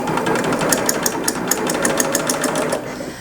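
A Bernina L890 set up for a 3-thread coverstitch runs nearby with a rapid, even mechanical chatter that continues steadily before easing off at the very end.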